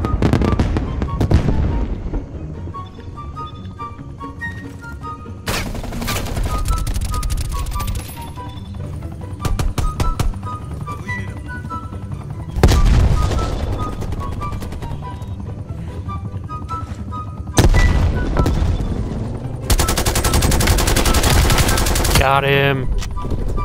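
Gunfire in Call of Duty: Cold War, with rapid automatic bursts and sharp single shots crackling loudly and repeatedly over a constant background of game noise and music.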